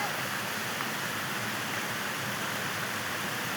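A small waterfall at a roadside spot, a steady broadband rush of falling water, close and constant throughout with no break.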